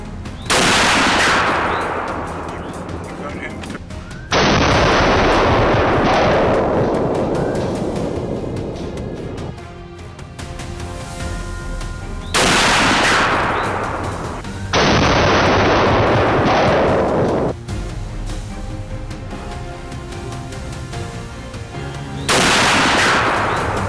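Loud gunshots ring out during a Louisiana wild hog hunt, several booming blasts spaced a few seconds apart, each trailing a long rolling echo.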